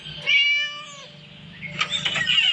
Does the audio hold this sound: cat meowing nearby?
yes